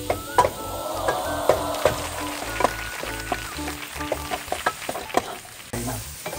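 Food browning in a pan, sizzling steadily while a utensil stirs and scrapes repeatedly in an uneven rhythm, close and fairly loud.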